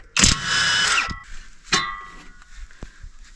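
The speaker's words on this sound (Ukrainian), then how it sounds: "зараз беремо 17-ту головку і відкручуємо накінечник" A power tool spins a 17 mm socket to unscrew a worn tie rod end on a Jeep Compass, with two short whirring bursts followed by faint metallic clicks and taps.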